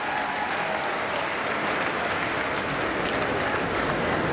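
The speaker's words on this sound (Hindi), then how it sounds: "एक बार अपने सबके लिए तालियां" A large crowd claps steadily at a university convocation, a loud continuous roar of applause that holds at full strength from start to finish with no talking over it.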